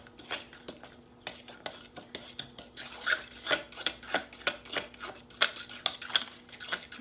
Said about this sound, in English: let's go ahead and get these eggs combined in here with our butter and our sugar